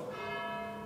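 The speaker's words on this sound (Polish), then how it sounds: "Dzwony kościoła w prawdopodobnie nawiedzonym budynku." Church bells ringing in a reportedly haunted palace building in Kujawy, Poland, a brief sustained metallic bell tone with rich overtones, moderately faint.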